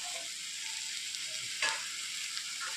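Masala-coated snake gourd fries in a pan, giving a continuous soft sizzle, with one brief louder scrape of stirring near the middle and a fainter one later, close and quiet.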